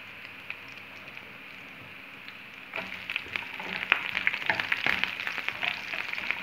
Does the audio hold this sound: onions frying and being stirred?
yes